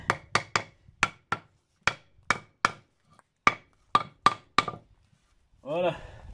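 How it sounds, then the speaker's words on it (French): A hammer taps nails flush into a wooden raised beehive stand, about a dozen sharp, close, evenly spaced knocks in quick pairs and singles, followed by someone speaking French. "je vais remettre un petit coup de marteau sur tout le monde"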